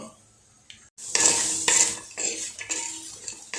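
Green peas are stirred in a clay pot with a utensil, giving close, continuous scraping and sizzling with repeated clinks, steady and fairly loud.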